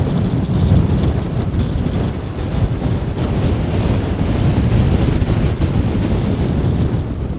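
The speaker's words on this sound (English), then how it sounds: "Very, very windy." Strong wind at Easedale Tarn in the Lake District roars and buffets the microphone continuously, a loud, steady rumble with gusty fluctuations and no voices.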